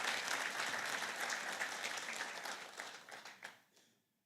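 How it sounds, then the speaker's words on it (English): Audience applause filling a hall at a taxpayer appreciation awards ceremony in Swakopmund, Namibia, a dense sustained clapping that holds steady and then tapers off near the end. "Give them a round of applause, please."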